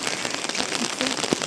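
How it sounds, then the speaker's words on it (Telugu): Heavy cyclone rain pouring down in Nellore, a dense steady hiss of drops striking surfaces close by, with a few sharper splashes breaking through the constant roar. "వర్షం ఎక్కువ."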